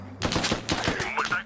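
A quick burst of several rapid gunshots from the military shooter game Squad fires in a tight rhythmic string, with a faint voice in the background.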